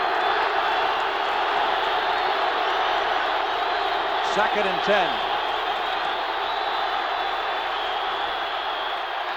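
A noisy NFL stadium crowd at a 1979 Redskins at Lions game, a dense continuous roar filling the air while an announcer talks over it.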